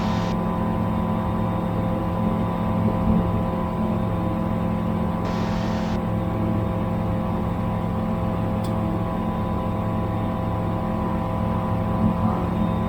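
Inside the cockpit, the engine of a 2018 Bristell 914 light aircraft drones at takeoff, a loud, constant hum with steady tonal whine that holds unbroken and without voices.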